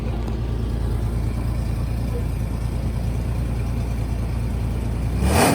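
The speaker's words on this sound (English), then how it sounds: "Give it a bit of gas and see what happens." Car engine running through an 8ft exhaust pipe, a steady deep droning rumble held for several seconds, rising sharply louder at the very end, close with no talk.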